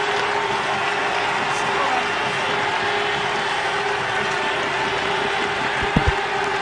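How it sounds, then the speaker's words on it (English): A cricket crowd at the County Ground in Chelmsford applauds Sachin Tendulkar's century. The clapping is a steady, even wash that holds for the whole stretch, with a couple of brief knocks near the end. "Everyone at the Ford County ground here at Chelmsford gives him a rousing applause"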